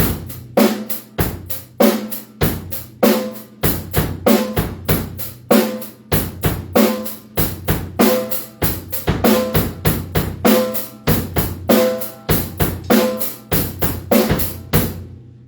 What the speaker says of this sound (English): So now you've got more notes going on the hi-hat